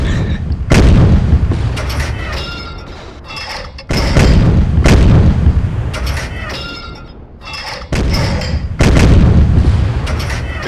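Naval guns fire at a destroyer in a naval battle video game set at Leyte Gulf, with several heavy, booming shots landing one after another, loud and close, each trailing off in a rumble.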